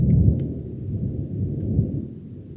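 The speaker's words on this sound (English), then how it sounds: "That thunder sounds good." Low rolling thunder rumbles continuously and fairly loud outdoors during a knife review, a long deep roar with no voices over it.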